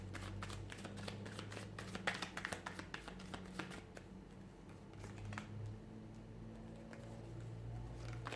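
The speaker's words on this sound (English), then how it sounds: "give the cards a shuffle" Soft riffling and shuffling of tarot cards, with quick papery ticks and flicks repeating for several seconds, close and fairly quiet over a low background hum.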